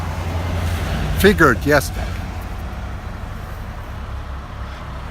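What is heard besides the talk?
cars passing on a busy road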